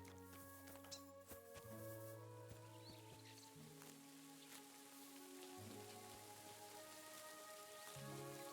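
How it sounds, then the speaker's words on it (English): Steady rain patters and hisses across the whole stretch in the video game Kingdom Come: Deliverance II, with soft sustained musical tones humming underneath and no talking. "It is raining, isn't it?"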